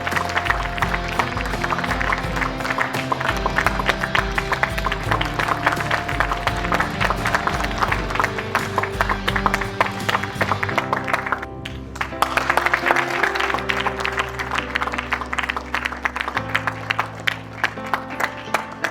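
An awards ceremony audience applauds a guest with dense, sustained clapping that runs steadily for most of the stretch, mixed with a low hum from the hall's sound system and a brief dip before the clapping resumes.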